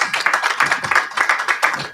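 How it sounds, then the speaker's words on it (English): A crowd at an African peacebuilding delegation event breaks into a round of applause, dense and steady clapping from many hands filling the room with no voices over it. "Big round of applause"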